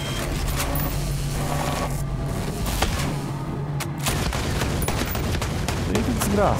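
Rapid bursts of gunfire from the video game Ghost Recon Breakpoint fill the scene with dense, loud, continuous shooting, while someone speaks briefly over it.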